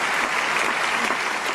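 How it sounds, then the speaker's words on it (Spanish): An audience in Budapest applauding after a show, with many hands clapping in a dense, even wash of sound that stays loud and continuous throughout. "Esta es una audiencia en Budapest aplaudiendo luego de un espectáculo"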